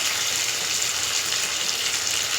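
Curry leaves, green chilies and cumin sputter in hot oil for a South Indian tempering, a steady dense sizzle with no break, close by and without voices.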